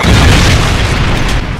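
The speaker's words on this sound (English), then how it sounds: "Friendly predator missile inbound." A predator missile explodes in the video game Modern Warfare 3, a loud, dense, sustained roar of blast noise that fills the whole moment and tails off only slightly at the end.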